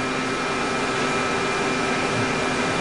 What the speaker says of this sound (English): We're going to run through a quick program. Basically a piece of 1/8 inch stainless that will be chamfered and cut off.